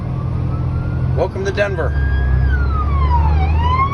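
Police car sirens wail during a 3 a.m. car chase in Denver, with a fleeing car ramming cop cars. A loud siren sweeps up and down in pitch over a steady engine rumble, after someone briefly speaks.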